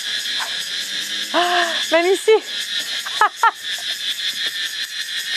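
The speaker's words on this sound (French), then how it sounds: "Vous entendez tous ces criquets?" Crickets chirp outdoors as a steady high-pitched trill running through the whole clip, with speech and breathy vocal sounds over it during a pregnancy HIIT workout.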